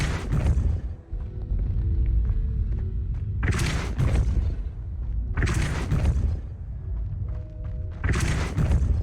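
Spell impacts from Depulso, the force-push charm in the video game Hogwarts Legacy: three loud, broadband bursts about two to three seconds apart, each a sharp whooshing boom over a steady low game rumble and faint musical tones.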